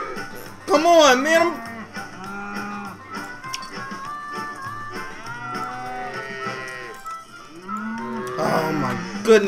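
Cows moo repeatedly in the Cowmets video game, a loud drawn-out moo near the start and another toward the end, with game sounds and mooing carrying on between them.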